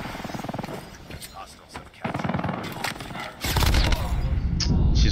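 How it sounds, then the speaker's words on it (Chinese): Rapid machine gun bursts crackle in a Call of Duty Mobile esports match, getting louder and denser toward the end, with a voice talking over the early part. "这机枪有点不好打呀"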